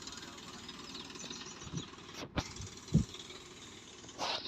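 A tractor engine runs in a farm field during land levelling, a steady low idling chug with a few louder knocks and bumps, and someone speaks faintly in the background.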